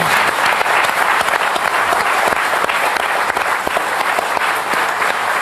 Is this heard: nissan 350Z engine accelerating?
no